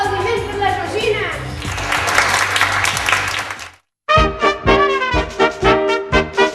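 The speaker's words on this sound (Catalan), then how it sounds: "Un aplaudiment per la Georgina." A crowd applauds a girl after a magic trick, a dense burst of clapping for several seconds that cuts off abruptly, followed by voices.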